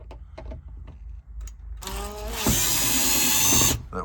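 A power drill whirs steadily for about two seconds while backing screws out of a Kioti tractor's bezel, starting from quiet and running loud and close.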